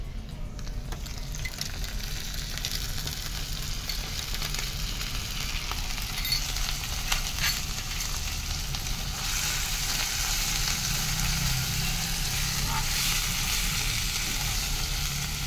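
Chopped onion sizzling in hot oil in a pan while cooking okra, a steady close frying hiss with occasional stirring scrapes, continuous and fairly loud with no talking.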